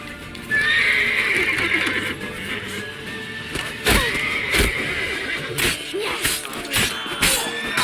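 Horse galloping and neighing in The Witcher 3 video game: a loud, drawn-out whinny over steady, clattering hoofbeats, with sharp thuds punctuating the gallop.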